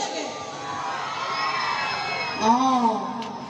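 A stage show audience shouts and cheers together for Zubeen Garg and Jatin Bora, a continuous roar of voices with a louder swell of whoops near the end.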